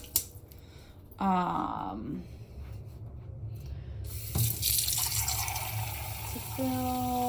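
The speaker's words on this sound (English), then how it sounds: "I'm just gonna put enough liquid in here to fill" Liquid running from a tap and pouring into a pot to fill it for chicken soup, steady splashing broken by short pauses and rising filling tones.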